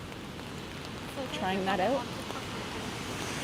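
Steady rain falls on a city street in Toronto on a wet afternoon walk, a continuous soft hiss throughout, with a person speaking briefly over it and a faint tonal sound mid-clip.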